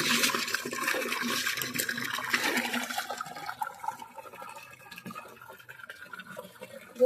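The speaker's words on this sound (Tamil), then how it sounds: "அம்மாடி தண்ணியை ஆஃப் பண்ணாமல் ஓடிட்டே இருக்குது." Water left running from a motor pump outlet at a farm in Odisha gushes steadily and loudly, the broadband splash strongest in the first three seconds and then easing to a lower, continuous trickling flow.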